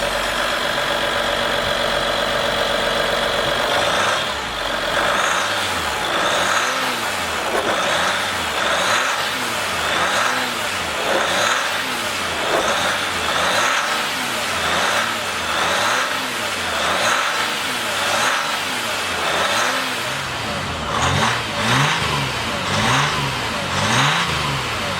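A 2021 Ram 1500 Limited with the 3.0-liter diesel V6 idles steadily for a few seconds, then revs in a string of repeated throttle blips that rise and fall, loud and close, with no talking.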